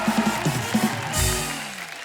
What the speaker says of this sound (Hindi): जोरदार तालियां हो जाए बब्बर फैमिली के लिए